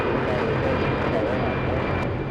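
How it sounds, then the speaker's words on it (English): A Delta Airlines Airbus A320 at Los Angeles International Airport produces a steady, broad engine roar that holds at an even level for the whole stretch. Voices can be heard faintly underneath it. "We have a small A320."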